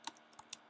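A few light computer keyboard clicks at a terminal, three quick, faint keystrokes spaced irregularly over a quiet background.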